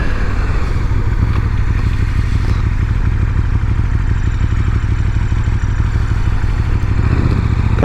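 A 2019 KTM 1290 Super Duke R motorcycle cruises with a continuous, loud engine rumble and rushing road and wind noise, holding a fairly steady pace throughout.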